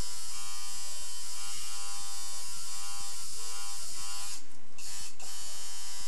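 A tattoo machine shading a color tattoo, its needle grouping turned on the side, buzzing steadily and loudly up close with a constant electric whine and brief shifts in pitch.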